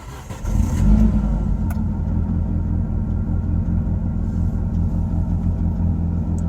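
Car engine cold-started on ethanol fuel after a potentiometer adjustment, cranking briefly then catching into a loud rumbling idle that settles and runs steadily for several seconds, no talking.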